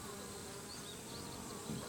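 Japanese honey bees clustered in a ball under a roof give a steady, dense, low buzz with no break, faint and close.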